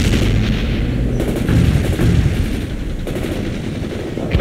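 Sustained machine gun fire in a war video game, a dense, loud, steady rattle of rapid shots with battle noise blended underneath, continuing without pause and without voices.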